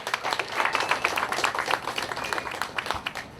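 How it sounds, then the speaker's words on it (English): Audience applause at the opening day ceremony of Intown Concord Market Days, a short burst of many hands clapping at moderate distance that tapers off toward the end. "Let's have a nice round of applause."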